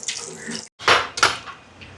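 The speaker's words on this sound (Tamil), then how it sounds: "அங்கே தண்ணி நிறையுது." Water splashes into a metal cooking pot with a few clanks of the vessel, brief and close, with no talking.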